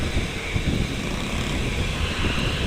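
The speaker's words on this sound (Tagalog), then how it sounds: "Pribadong pag-aari yung eroplano na yan" A privately owned airplane passing overhead, a steady broadband engine drone at moderate distance that holds level throughout with no voices.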